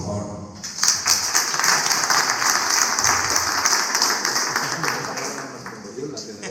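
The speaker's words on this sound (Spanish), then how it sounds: "Un aplauso, por favor" Audience applause fills a guitar effects pedal workshop at the Guitarramanía Basauri 2025 festival, a dense, steady wash of clapping swelling in after a brief lull, holding loud for several seconds, then easing slightly.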